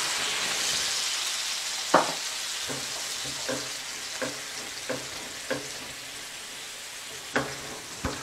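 White wine and lemon juice sizzle in a shrimp scampi pan while a utensil stirs, a constant frying hiss broken by sharp scraping clicks against the pan at irregular intervals.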